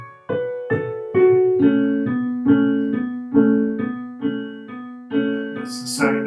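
Piano playing the intro of a song with a left-hand chord change, a slow pulse of repeated struck chords about twice a second, close and clear, with no talking.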